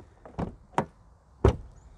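A Range Rover P400e PHEV Vogue plug-in hybrid door with vacuum soft-close is pushed toward shut in a parking garage, giving three dull, close thuds a fraction of a second apart.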